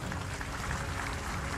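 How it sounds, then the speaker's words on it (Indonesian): At a ceremony attended by special forces troops, a crowd claps in a short, dense burst of applause, moderately loud and steady, with no voices over it. "Tepuk tangan semuanya."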